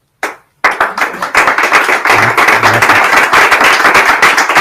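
An audience at a church event on migrants and refugees in Madrid bursts into applause after a few early claps, building into loud, sustained clapping from many people.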